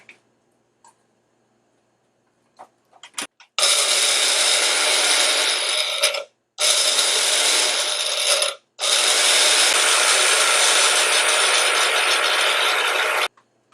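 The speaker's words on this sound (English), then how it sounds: "And now I'm going to blend." An electric blender whirs loudly as it blends cucumber, running in three sustained bursts separated by two brief pauses after a few quiet clicks at the start.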